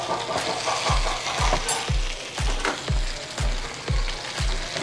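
Meat meatballs sizzle in a frying pan, a steady close frying hiss broken by a regular series of soft thumps roughly every half second as they are moved about, with no talking.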